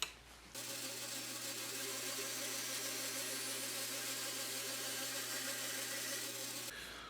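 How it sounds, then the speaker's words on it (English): A bandsaw cuts a small wooden stop block in a workshop, running as a steady, even whine and whir for about six seconds before it stops, with no talking. "I'll cut it on the bandsaw."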